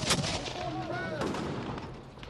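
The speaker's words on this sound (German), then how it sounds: "untermalen schwedische Kanonen die Dringlichkeit ihrer Anträge" Swedish cannons firing during the siege of Regensburg in the Thirty Years' War: a loud, dense burst of booming gunfire with overlapping blasts and rolling rumble, staying heavy for the whole short stretch.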